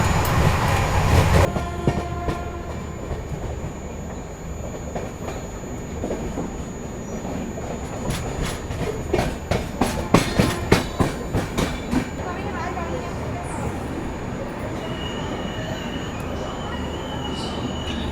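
Delhi to Chennai Rajdhani express train running at about 130 km/h, heard from inside an older ICF coach: a loud continuous rumble with rapid clickety-clack wheel beats over rail joints and occasional squeal, sustained throughout.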